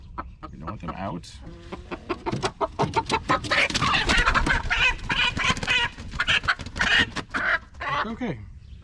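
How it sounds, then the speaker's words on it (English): Farmyard chickens cluck and squawk steadily at close range while a person talks over them during handling. "Let me put the chickens over here."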